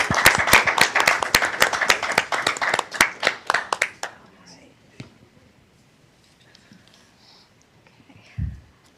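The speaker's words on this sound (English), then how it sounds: "One more round of applause." Audience applause at a school committee meeting: a dense burst of clapping for about four seconds that thins into scattered claps and fades out, followed by a quiet room with a brief low thump.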